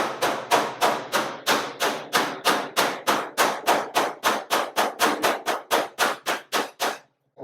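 A hammer strikes metal on a cab-over truck body about twenty times in a steady, quick rhythm, each blow sharp, close and ringing, with no talking.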